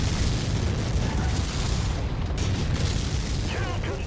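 A destroyed mech exploding in the MechWarrior 5 video game, a dense, booming blast with a roaring rumble that fills the whole clip.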